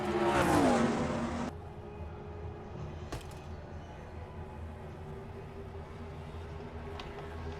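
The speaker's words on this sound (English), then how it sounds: "Caleb Vogler in the Ford Motorsport Ford car number 90 out in front." Race cars lapping Darlington Raceway in a NASCAR-style racing video game, a loud engine sweep passing close in the first second and a half, then a steady lower drone of distant cars with no talk.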